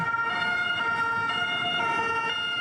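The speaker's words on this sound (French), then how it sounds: "ou encore qu'une sirène d'ambulance" A loud ambulance siren wails steadily, its tonal sweep rising and falling over traffic noise, close by and uninterrupted.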